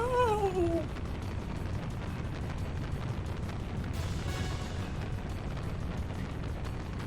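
Explosions in the video game Xenogears rumble as a sustained, dense roar of blasts and debris, loud and continuous, following a brief falling tonal cry at the start.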